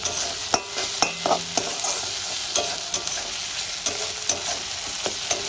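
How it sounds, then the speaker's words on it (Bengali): Ginger, garlic and green chili sautéing in a pan: a continuous close sizzle punctuated by sharp spatula clicks and scrapes at an irregular rhythm, with no talking. "আমি আদা রসুন কাঁচা লঙ্কাটা দিয়ে ভালো করে কষিয়ে নিয়েছি"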